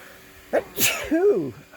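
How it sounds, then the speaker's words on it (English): A single sneeze, close and abrupt, with a short sharp intake and burst followed by a trailing vocal tail. "I'm gonna sneeze because I'm looking up"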